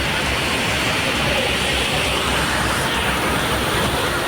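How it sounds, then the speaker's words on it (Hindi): Kempty Falls in flood: the waterfall pours down as an unbroken, loud, roaring torrent of rushing water, steady throughout with no voices. "झरने का पानी केम्प्टी फॉल के आसपास बने कई दुकानों में घुसने लगा।"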